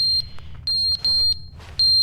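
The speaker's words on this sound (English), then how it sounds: "What is that beeping?" Insistent electronic alarm beeping in the video game The Stanley Parable Ultra Deluxe, four loud high-pitched tones in an irregular pulsing pattern with short gaps between them.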